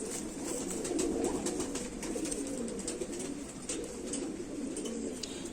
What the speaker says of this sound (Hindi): बड़े खोपड़े का पुराने सवा चीने कबूतर।